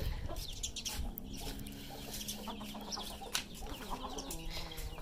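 Hens cluck repeatedly nearby as one searches for a spot to lay an egg, a series of short clucks and murmuring calls amid other farmyard birds.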